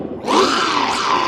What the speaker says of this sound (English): They make little attack noises on me when they swing.